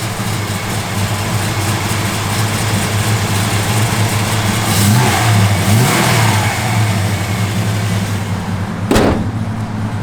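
A 1969 Dodge Charger with a lumpy cam idles loud and close, its engine rumbling steadily before swelling into a revving rise and settling back, followed by a sharp clunk near the end.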